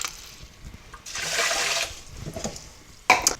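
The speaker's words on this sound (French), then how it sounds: "j'incorpore mon eau froide." Cold water pours into a bowl of rinsed rice, a rushing splash that swells then fades, followed by a brief clatter of the container, close and without speech.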